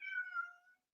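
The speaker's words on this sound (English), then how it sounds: "Where's that cat noise coming from?" A cat gives a single clear meow, close and alone in a quiet studio, trailing off after under a second.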